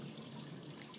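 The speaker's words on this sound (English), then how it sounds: "I adore the sound of running water" Water runs steadily from a tap, a continuous close hiss and trickle that carries on unbroken for the whole second.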